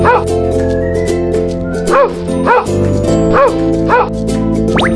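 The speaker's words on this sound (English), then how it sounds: "Dog." A dog barks and yips in a series of short bursts about once a second over a steady, droning background.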